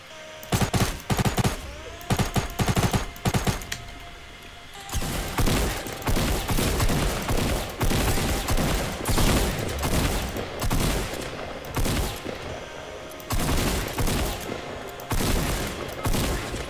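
Rapid automatic gunfire from the video game Fortnite, bursts of loud, dense shots, first in choppy volleys and then in long sustained streams with brief gaps between them.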